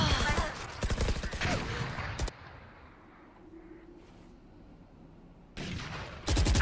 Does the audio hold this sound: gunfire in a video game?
yes